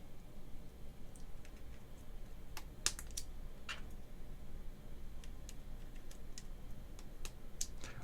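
Someone types on a keyboard fitted with milky Gateron switches, making a quiet, uneven run of clicks and clacks with a faint background hum.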